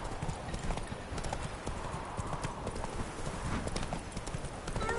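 Horse hooves clip-clop steadily in The Witcher 3: Wild Hunt video game, a continuous rhythmic gait over rumbling ambient noise, with faint game sounds and no clear talking.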